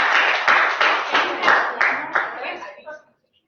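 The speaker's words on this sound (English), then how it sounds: "So, round of applause for that." A room of people claps in a loose rhythmic pattern, with loud, close claps pulsing about twice a second before tapering off and stopping abruptly near the end.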